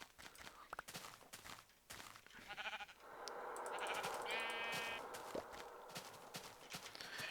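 Sheep bleat in the Minecraft game amid a busy mix of game sounds, including soft hoof-like steps and clicks, with a tonal bleat standing out midway through the dense, steady background.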